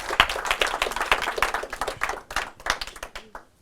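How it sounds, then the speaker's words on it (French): A burst of applause from an audience, many hands clapping densely and steadily, fading out toward the end. "sous vos applaudissements"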